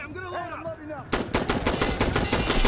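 Gunfire in the video game Insurgency Sandstorm, a loud rapid burst of automatic shots that begins abruptly after a short stretch of someone talking and continues steadily to the end.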